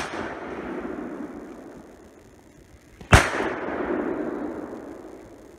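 A single sharp gunshot cracks out during a deer hunt, loud and close, followed by a fading rumble against a quiet outdoor background.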